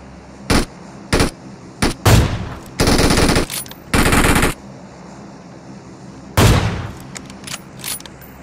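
AWM sniper rifle fire in a video game rings out in a string of loud, sharp, close shots with uneven gaps, some ringing longer with a short echoing tail.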